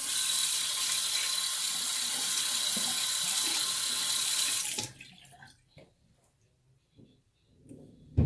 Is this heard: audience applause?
no